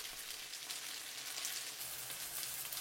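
Gyoza sizzling in sesame oil in a hot pan, browning on the bottom: a steady, dense crackle and hiss that holds close and even throughout, with no voices.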